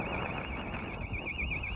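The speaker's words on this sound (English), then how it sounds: "I think someone's house alarm's gone off." A house alarm goes off during a walk from Broadstairs to Sandwich in Kent, heard as a continuous, warbling high electronic siren at moderate distance over steady wind and outdoor rumble.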